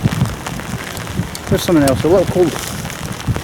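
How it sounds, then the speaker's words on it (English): Heavy rain pours down at a harbour dock during a fishing session in cold weather, a steady broadband hiss under a man's close, brief speech. "the rain's really coming down like hell"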